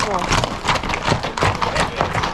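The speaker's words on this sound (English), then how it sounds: "So apparently we're going to be sharing this trail with some horses." Horses clip-clopping along a hiking trail, their hoofbeats rhythmic and fairly close, partly masked by people talking over them and by broad background noise.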